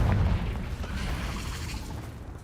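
A Confringo fire spell explodes in Hogwarts Legacy, a deep booming blast at the start whose low rumble decays over about two seconds, with no talk over it.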